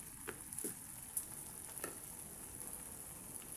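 Masala for a prawn curry frying in a pan, a faint steady sizzle with a few soft stirring scrapes and a light clink.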